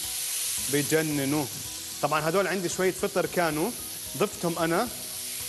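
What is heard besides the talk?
frying mushrooms with lemon, garlic and olive oil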